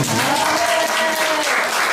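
A brief burst of audience applause at a Korean Presbyterian church general assembly, loud, dense clapping over about two seconds with a faint voice-like tone running through it.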